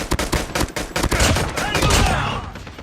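Pistol gunfire in a multiplayer shooter game, a quick run of sharp shots in the first second and a half, then a dense rumble of game effects.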